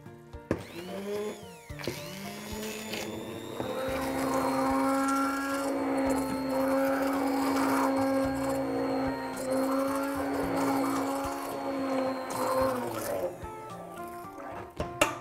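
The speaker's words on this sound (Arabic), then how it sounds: "هاخد المكنه دي اللي عندي وهبتدي آه بهرسها" An electric kitchen machine whirs steadily for several seconds while mashing mushroom cream sauce for roast beef, a strained motor hum that starts and stops, with brief handling knocks at either end.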